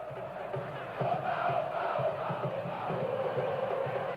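Bahia football supporters fill Fonte Nova stadium with a broad, continuous roar of crowd noise that swells after the first second and holds steady, distant and dense.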